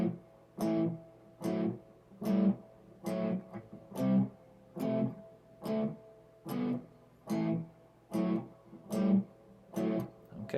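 Guitar slowly playing the verse riff of Deep Purple's Space Truckin' as a blues shuffle starting on open A, with evenly spaced picked notes repeating in a steady loping rhythm, quiet and close, with no voices.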